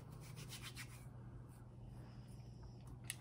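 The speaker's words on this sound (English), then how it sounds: "So I take a little bit on my hand, rub it together, and put it on" Hands rub a small dab of hair product together between the palms, a soft close swishing friction of a few seconds over a low steady hum, with no talking.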